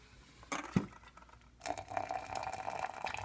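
Hot water pours from a kettle into an Aeropress coffee maker, a steady close liquid fill with a gurgling, rising pitch, preceded by a few brief clinks and splashes, with no talking.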